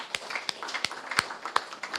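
Scattered hand claps from a small audience applauding the debaters at a national law day debate, sparse and fairly distant, with individual claps spaced irregularly over about two seconds and no speech.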